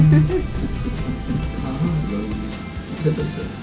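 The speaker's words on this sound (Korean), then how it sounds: "비가 주룩주룩 내려와서" Heavy rain pours steadily during a rainy day in Paris, a dense, even hiss with low rumble and no breaks, continuous throughout.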